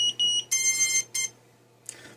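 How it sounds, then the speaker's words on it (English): FPV Unicorn 220 brushless drone beeper signalling no radio connection: a few short, shrill electronic beeps in an irregular pattern, close and loud against quiet background hum. "We've got our beeper because I do not have the radio on, so that indicates it's not connected."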